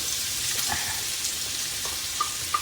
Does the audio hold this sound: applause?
no